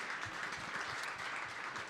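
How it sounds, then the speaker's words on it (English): An audience applauds steadily in a packed club, a dense wash of clapping that stays at an even level throughout. "give yourselves a big round of applause for filling up the Fox Club here tonight"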